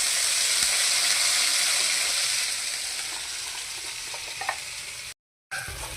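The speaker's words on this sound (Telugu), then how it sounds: "పన్నీర్ మసాలా ఇప్పుడు 10 నిమిషాలు మంచిగా వేగాల" Paneer masala fries in oil with cumin and ground spice paste, a steady close sizzle and crackle with faint stirring scrapes. It softens a little toward the end, followed by a brief silent gap.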